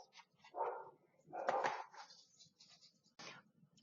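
Several dogs bark outside in a residential neighborhood as school children walk home, sounding as a few separate bursts of barking at moderate distance, with a quieter yip near the end.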